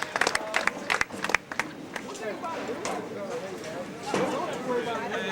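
Scattered clapping from a rodeo audience at an Iowa High School Rodeo Association event, a quick burst of hand claps near the start that thins out beneath an announcer's amplified voice echoing over the arena crowd.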